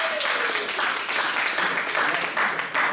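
Steady applause from a gathered crowd for Nina, dense continuous clapping at moderate loudness with a few faint voices underneath.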